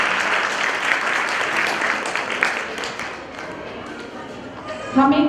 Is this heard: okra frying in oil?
no